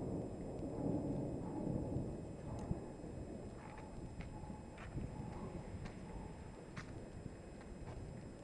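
A strong afternoon thunderstorm in Brindisi brings a continuous rumble of thunder and steady rain with scattered sharp drop or tapping sounds, fairly faint and without talk.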